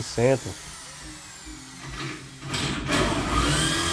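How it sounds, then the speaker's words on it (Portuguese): A drill boring holes in a Madesa Emilly kitchen cabinet, a short voice at the start, then a quiet stretch before the drill's buzzing whir builds up near the end. "concluir, fazer os últimos dois furos que faltam aqui"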